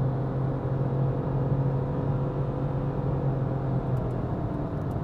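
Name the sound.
2022 Renault Clio 1.0 TCe X-Tronic accelerating, shifting gears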